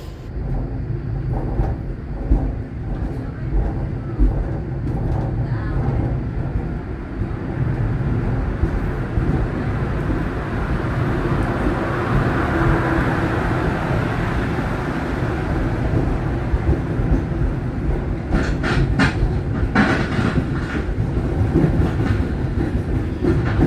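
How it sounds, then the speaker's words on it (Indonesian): The Tawang Alun passenger train in Indonesia, hauled by two locomotives, heard from on board as it pulls away: a continuous loud rumble with rhythmic clickety-clack of wheels over rail joints, and a burst of rattling near the end. "ini kereta api Tawang Alun akan segera diberangkatkan kembali"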